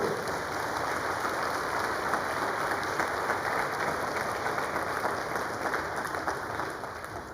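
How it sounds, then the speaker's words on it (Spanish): A church congregation claps loudly and steadily through a sermon break, a dense continuous wash of hands that holds throughout and tapers slightly at the end, with no talk over it. "Un aplauso fuerte."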